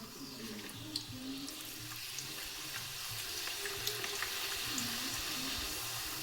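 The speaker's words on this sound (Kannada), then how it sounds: "ಎಣ್ಣೆ ಸ್ವಲ್ಪ ಬಿಸಿ ಆಗ್ತಾಯಿದೆ. ಸೊ ನೋಡಿ ಎಣ್ಣೆ ಬಿಸಿ ಆಗೋದು. ಇವಾಗ ಹಾಕ್ತಾಯಿದ್ದೀನಿ." Puri frying in hot oil, a steady close sizzle with scattered crackles and pops that build slightly over a few seconds, with no talking.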